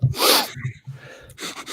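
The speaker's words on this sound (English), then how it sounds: "Why are you sniffing?" A few sharp nasal sniffs and snorts in quick succession, close and fairly loud, with short breathy gaps between them.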